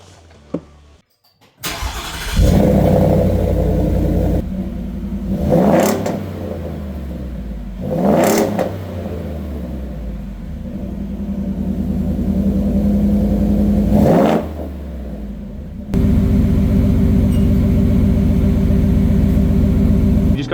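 A 2021–2025 Ford F-150 pickup fitted with a Flowmaster Outlaw muffler starts up, then revs repeatedly in sharp bursts over a loud, deep idle, close to the microphone.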